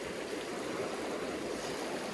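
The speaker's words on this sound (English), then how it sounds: "This is some fast moving water." A fast-flowing river in western Montana rushes steadily over rocks, producing a constant dense roar with no breaks, close and fairly loud.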